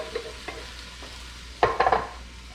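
Crushed tomatoes for a marinara sauce are poured from a can into a pot and scraped out, with a few soft wet plops and then a cluster of sharp metallic scraping clicks near the end.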